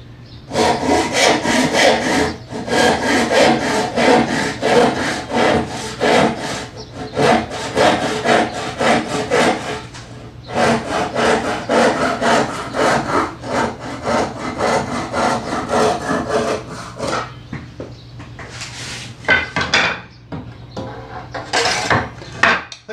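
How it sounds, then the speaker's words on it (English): A dovetail saw cuts wood in a rapid, rhythmic back-and-forth rasp, close and loud, in several runs of steady strokes separated by short pauses, with no talking. "I'm using my dovetail saw, not the crosscut saw."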